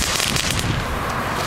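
Consumer fireworks from a Breda garden centre crackle and pop in a dense, fast burst of sharp reports lasting under two seconds, fairly close and with no voices.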